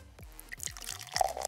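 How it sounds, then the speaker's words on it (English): Champagne from a freshly opened bottle poured slowly over frozen grapefruit, heard as a quiet series of close, dripping plinks and small splashes with a faint fizz, no talking. "I will just pour a little bit of champagne. Be careful and pour it slowly, since this is a freshly opened bottle and it can foam."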